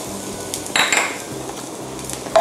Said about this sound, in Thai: นำกระทะตั้งไฟให้ร้อนใส่กระเทียม